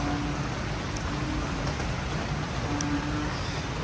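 Steady, dense rainfall pours down continuously, a loud even hiss throughout with no voices.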